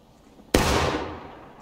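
A single sharp gunshot at an outdoor shooting competition, loud and close, followed by a long fading echo across the range.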